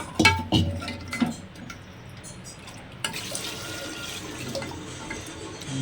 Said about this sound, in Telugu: ఆ గిన్నెలో నీళ్ళు పోసి వేసేద్దాం